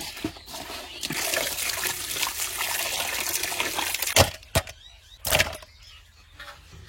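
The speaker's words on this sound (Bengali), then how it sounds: "লবণ দিয়ে মাছটা ধুয়ে নিই" Running water splashes and trickles steadily while a fish is washed with salt, then breaks into a few louder sloshes and splashes near the end.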